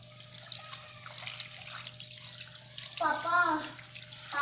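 Water is poured over carp being cooked as arsik, a steady trickle and splash under nearby talking.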